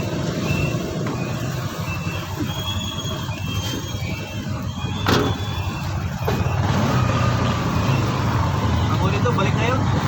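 A bao-bao motor tricycle on a ride on Samal Island, its engine giving a steady low rumble with road noise and a brief rattling knock partway through, under a busy background.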